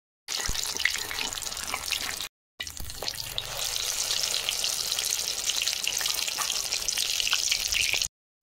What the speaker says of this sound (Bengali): এই চাল কুমড়োটা ভাজা হচ্ছে, এটা উল্টে দিই।